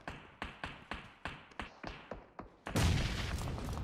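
Sniper rifle fire in the PUBG Mobile battle royale game: about eight sharp, evenly spaced shots crack out roughly every half second, then a louder, dense burst of gunfire fills the rest, with no talking.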